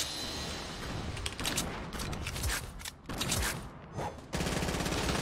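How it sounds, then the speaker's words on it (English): Gunfire in the video game Fortnite Battle Royale, a steady run of rapid shots and bursts with mechanical clicks, loud and continuous throughout with no talking. "I'm gonna grab this pistol and shoot somebody with it."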